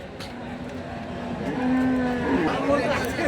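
A young two-tooth Sahiwal bull at a crowded livestock market gives a drawn-out low moo near the middle, rising over steady market hubbub and background noise.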